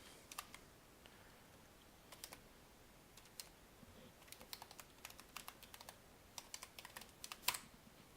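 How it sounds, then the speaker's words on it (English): Password keys are tapped on a computer keyboard in a quiet room, soft scattered clicks in short irregular bursts growing busier toward the end, close and faint, with no talk. "you type in your password"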